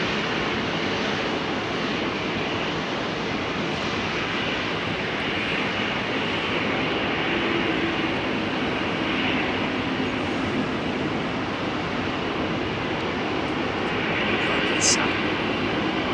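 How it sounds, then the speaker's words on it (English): Jet airliners departing Heathrow Airport on a summer solstice evening: a steady, loud broadband engine roar that holds throughout, with a brief sharp sound near the end. "straight through the middle of these two jets that are departing."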